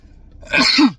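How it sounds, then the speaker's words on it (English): A single sharp sneeze bursts out after a quiet moment, close and loud, with a breathy rush and a short voiced tail. "I'm about to sneeze."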